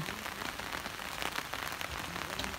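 Rain patters steadily on surfaces at a large daio wasabi farm in Azumino, Nagano, Japan, a soft close hiss of scattered drops with no voices.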